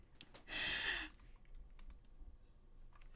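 Keystrokes clatter on a Space65 Cybervoyager mechanical keyboard fitted with GMK Calcium keycaps, a quick dense burst of clicky typing followed by a few scattered taps in a quiet room.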